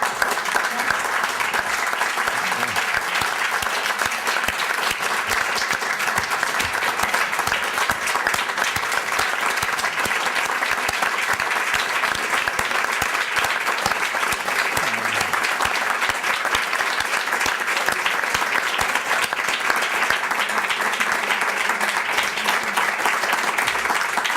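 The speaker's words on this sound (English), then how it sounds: "That's the longest applause that George Weiss ever got" Long, sustained audience applause at a gathering honoring George Weiss, founder of a 1987 college-scholarship program, a dense and even wash of many hands clapping with no letup.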